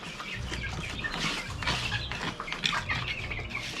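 Steady soft clucking and peeping from a group of one-month-old chicks, continuous busy chatter at moderate volume with no voices.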